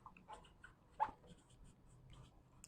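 Chalk taps and scratches on a board during a lecture on microbes and sewage, faint, sparse strokes in a quiet room with one sharper tap near the middle.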